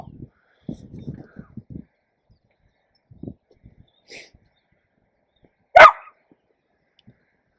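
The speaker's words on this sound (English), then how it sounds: "The dog obviously wants to get on." Dog at a motorhome giving a loud single bark after soft whimpers and whines, with people talking nearby between the sounds.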